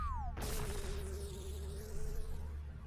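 Bees buzz steadily in the Zelda game Majora's Mask, a continuous droning hum with a wavering pitch that holds close and fairly loud after a brief sliding tone at the start, with no talking.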